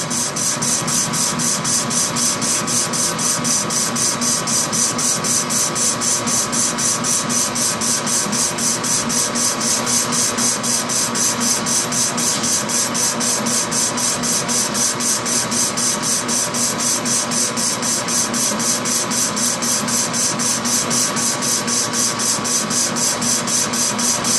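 A metal lathe with carbide bits cuts 8 inch round stock under coolant, producing a continuous loud machine drone with a fast, even mechanical chatter running unchanged throughout.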